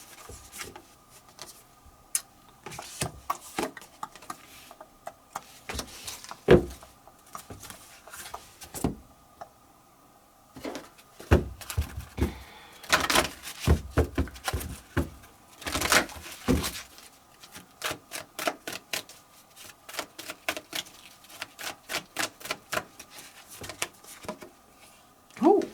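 Several tarot card decks are shuffled by hand in irregular bursts of crisp riffling and tapping, close and fairly quiet, with short pauses between flurries and no talking.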